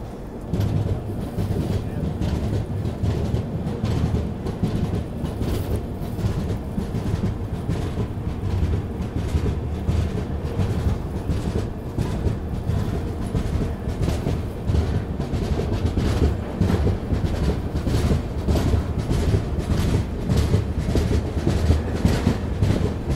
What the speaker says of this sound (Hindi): थोड़ा बहुत एक्सेलरेशन तो ट्रेन ने दिखाया।